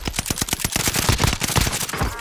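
Rapid automatic gunfire from a battle royale video game, a dense run of sharp close shots firing in quick bursts for about two seconds with no voices.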